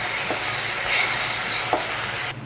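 Washed moong dal with turmeric being stirred in a hot pan: a constant soft sizzle broken by a few scraping strokes of the spoon, ending abruptly.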